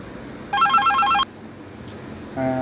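An NEC AT-45 telephone rings on an incoming call with a loud electronic ring burst lasting under a second, then silence, then a second ring beginning near the end.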